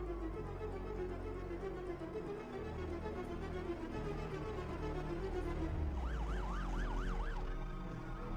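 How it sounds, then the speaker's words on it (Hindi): A police car siren from a Hindi-dubbed South Indian movie scene rises in the last few seconds, wailing up and down over a steady low rumble of background score and ambient noise. "पुलिस की गाड़ी आ रही है, जल्दी।"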